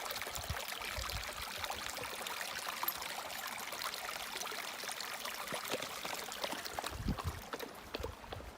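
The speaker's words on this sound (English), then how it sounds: "Actually sounds like there's some water running here." Water runs in a steady, hissing rush that stays at an even level throughout, with a few faint low thumps underneath.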